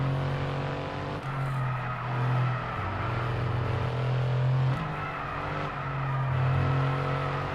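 Aston Martin Formula 1 car engine in F1 22 at the British Grand Prix near Maggots and Becketts, a loud, sustained high-revving whine rising and dropping through gear changes.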